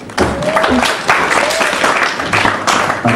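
Audience applause at a talk on a flat-earth conspiracy, bursts of clapping from a crowd rising and falling over about three seconds, with voices mixed underneath.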